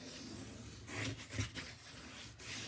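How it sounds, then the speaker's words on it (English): Paper in a handmade mini album is burnished with a tool, giving soft, quiet rubbing strokes with a couple of brief, slightly louder passes; no voices. "Now I'll burnish"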